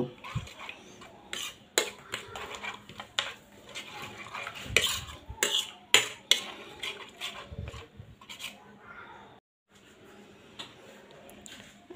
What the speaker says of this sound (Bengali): এক চিমটি লবণ দিয়ে ডিমের সঙ্গে ভালো করে মিশিয়ে নেব